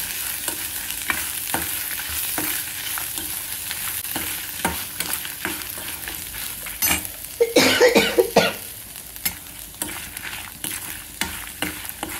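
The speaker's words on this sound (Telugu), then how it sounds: "మిరపకాయలు వేగిపోయినాయండి" Dried red chillies frying in a pan for curry leaf podi, stirred with a spatula: repeated scraping strokes over a constant sizzle, louder and busier in the middle, with a brief cough-like burst.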